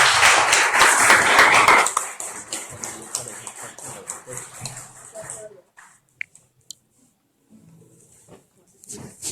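Brief applause for a folk musician at a public magazine launch: a burst of crowd clapping for about two seconds that quickly thins out, followed by scattered handling noises and someone speaking nearby.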